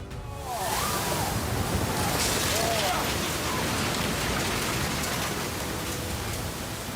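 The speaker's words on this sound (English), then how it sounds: "Prolonged heavy rain in Izmir caused floodwaters to rise rapidly" Heavy rain pours down in a steady, loud hiss and patter that continues without a break.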